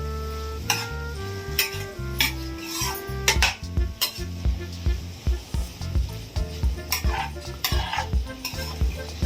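Ingredients for red fried rice frying in a pan, a continuous sizzle under quick, repeated metallic scraping and clinking of a spatula against the pan, close up, with background music playing throughout.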